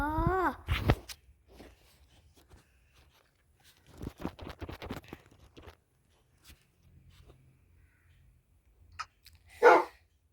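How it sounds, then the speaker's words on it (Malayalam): Several video game dogs in Lokicraft bark and yelp in scattered bursts, with a loud sharp bark near the end and quiet stretches between. "പട്ടിയെല്ലാം നീ ഭ്രാന്ത് പിടിപ്പിക്കുന്നുണ്ട് കേട്ടോ"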